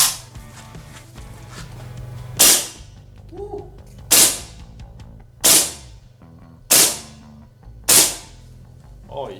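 Five sharp, loud shots from a King Arms M1 Carbine gel blaster, CO2 or gas powered, fired on a range at steady intervals of roughly a second and a half, each a crisp crack with a short decay.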